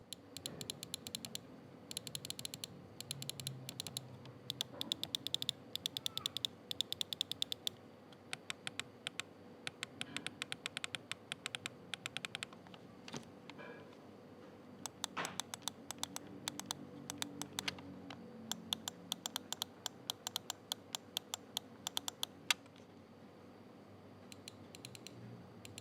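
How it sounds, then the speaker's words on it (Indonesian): Rapid bursts of crisp clicks from a Rexus Bara X17 gaming mouse with Huano switches, tapped in quick clusters with short pauses between, close and sharp against a quiet background. "berikut ini contoh suara dari switch Huano RXM X17"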